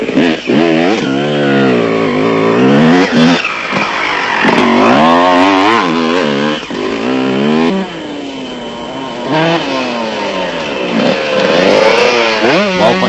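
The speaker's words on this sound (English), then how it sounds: "Van Niekerk churned up the desert on his Honda 125." A Honda 125 off-road motorcycle races across desert terrain in an off-road race, its two-stroke engine loud and close, revving and wailing through repeated rising and falling gear changes for the whole stretch.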